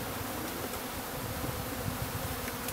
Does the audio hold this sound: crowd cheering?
no